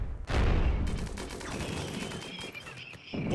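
Turret gunfire in RimWorld with a Warhammer 40,000 Adeptus Mechanicus mod: a sustained rattle of rapid automatic shots opening with a heavy burst, then thinning toward the end, fairly close and without talk.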